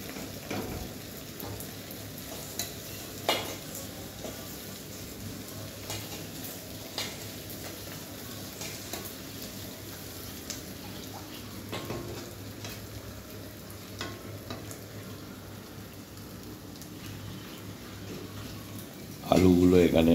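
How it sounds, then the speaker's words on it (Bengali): Onions fry in a wok and are stirred now and then, giving a soft, steady sizzle with light scraping. The sound stays fairly quiet throughout, and a louder knock comes right at the end. "আমি একটু নাড়াচাড়া করে দিচ্ছি পেঁয়াজটা।"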